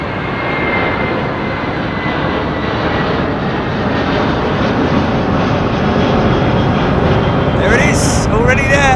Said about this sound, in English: Lovely old A330 now. We might get some wingtip vortex from this one.